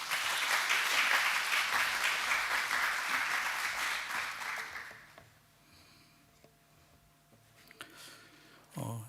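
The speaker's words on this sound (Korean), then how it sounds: "나오실 때 박수로 환영하겠습니다." A church congregation applauding to welcome a visiting missionary speaker: warm, steady clapping from many people for about five seconds, then quickly dying away into a quiet room with a few small shuffles.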